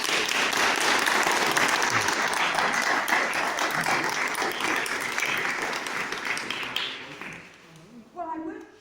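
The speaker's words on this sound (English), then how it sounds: "let's give Robert, who is behind everything, a round of applause" An audience at an outdoor blue plaque unveiling for Edward Kemp in Birkenhead Park gives a sustained round of applause, dense clapping that fades out before a voice starts speaking.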